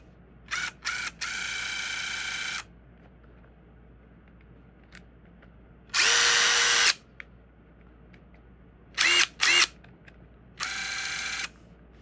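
DeWalt DCF887 brushless impact driver, freshly reassembled, whirring in four short near bursts of differing length, with a pair of quick blips at the start and near silence between runs.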